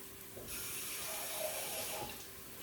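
Water splashes into a hot pan over a dying flame, a faint sizzling hiss that builds quickly and fades after about two seconds.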